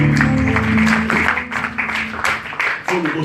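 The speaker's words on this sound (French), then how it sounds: "Acclamez pour le Seigneur. Acclamez, soyez gentils, des vraies acclamations." Church congregation at a worship service acclaiming the Lord, clapping and cheering loudly with a mix of voices and applause, while a leader speaks over the noise.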